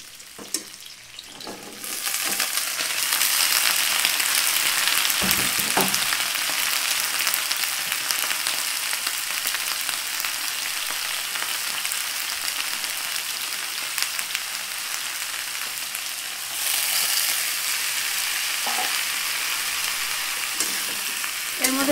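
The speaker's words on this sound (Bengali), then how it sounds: "হালকা করে পেঁয়াজটা ভাজুন, বেশি গাঢ় করে ভাজবো না" Onions frying lightly in a pan, a steady, close, dense sizzle with occasional stirring clatter, continuing for the whole stretch with no talking.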